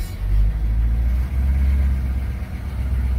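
An M1028A2 CUCV military pickup truck rolling along in front-wheel drive only, a loud, low, steady engine rumble heard from inside the cab, close and without talk.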